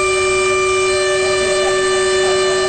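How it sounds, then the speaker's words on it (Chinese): A Taiwan Railway train horn blows in mourning, one loud unbroken tonal blast held for the whole stretch with layered steady pitches and faint rail rumble underneath, no voices. "发出高亢鸣笛声，这个过程长达42秒"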